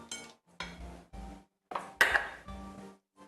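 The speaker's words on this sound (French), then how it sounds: "Et nous mélangeons encore." Potato cake batter with almond pieces being stirred in a bowl: a series of separate, fairly close scraping and clinking strokes of a utensil against the dish, arriving in short bursts with brief pauses between them.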